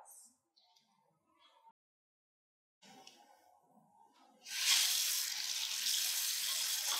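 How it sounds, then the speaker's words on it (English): Running tap water in a lab sink pours loudly for the final few seconds as hands are washed, preceded by quieter handling sounds and brief talk. "Wash your hands by using soap and water 20 to 30 seconds."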